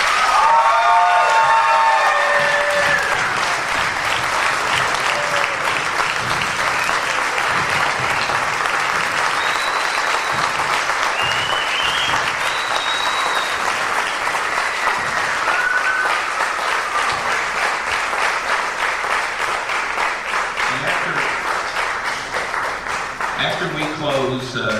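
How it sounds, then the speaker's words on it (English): An audience gives a sustained round of applause at a celebrity appearance, dense and loud clapping throughout that eases slightly near the end. "If you all would give him another round of applause."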